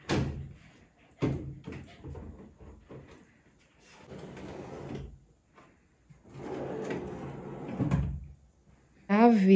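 A large drawer is fitted into new furniture in an apartment renovation and slid open and shut several times, giving sharp close knocks and rolling runner rumbles, with a person talking in between.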